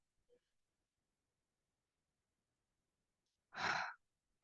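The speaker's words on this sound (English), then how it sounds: "take a deep breath right now, just like a really slow, deep breath" After near silence, a single deep breath comes close to the microphone: a soft breathy exhale like a sigh lasting about half a second, with no talking.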